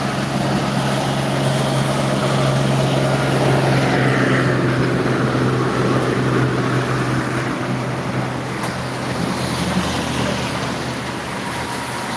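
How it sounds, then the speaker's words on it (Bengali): Heavy rain falls steadily on a roadside beside a house, a loud, dense, continuous hiss with a low hum underneath that lasts the whole stretch without pause. "ভালোই বৃষ্টি হচ্ছে"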